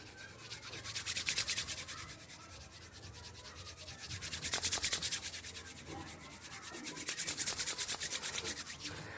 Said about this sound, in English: the second one by rubbing our hands together